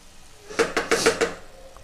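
A metal lid set onto a cooking pot of field-green curry, giving a short burst of four or five close clanks and rattles over about a second, then quiet.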